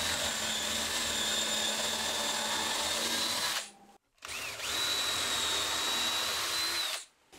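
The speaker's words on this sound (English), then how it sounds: "I'm going to drill some pilot holes first for them to go into" A power drill bores pilot holes for coach screws into a wooden workbench to mount a vise, a steady high whine in two sustained bursts separated by a brief stop, close and loud with no talk.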